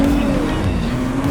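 A 2023 Audi RS5 Competition accelerating hard from a launch under maximum boost, its engine a loud, continuous rising roar heard close from inside the cabin, with no talking.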